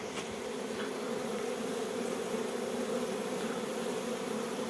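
A honey bee swarm buzzes around a tree in a steady, dense hum from many insects, continuous and fairly close, with no voices.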